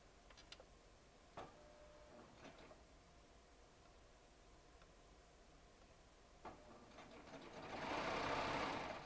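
A Baby Lock Triumph serger joins jelly roll quilt strips, faint at first with soft ticks and clicks, then a louder steady whirring stitch burst near the end, heard close and alone.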